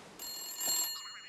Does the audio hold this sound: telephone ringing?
yes